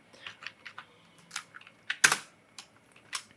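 Someone types on a computer keyboard up close, a handful of separate key taps at an uneven pace with one sharper, louder keystroke partway through and no talk.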